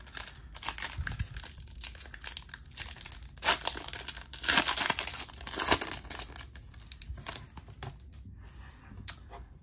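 Foil trading card packs from a Bowman Platinum mega box being torn and rustled open, crisp crinkling and ripping bursts, loudest in a flurry midway, close and alone with no talk.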